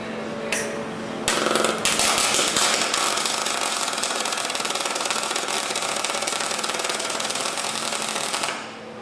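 A MIG welder held in one spot on a panel at a setting of 29 gives a loud, steady crackling buzz that starts after a brief burst and runs continuously for about seven seconds, close by with no talk.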